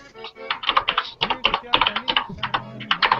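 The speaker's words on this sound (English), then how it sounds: "Someone's keyboard is super fucking loud." A loud mechanical keyboard clatters with quick, uneven keystrokes close to the microphone while a person talks over the typing.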